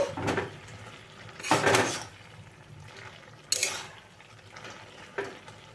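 Fried kachki fish is mixed into curry in a pan, with a spoon scraping and clanking against the metal in several bursts over a soft background sizzle, and no talking.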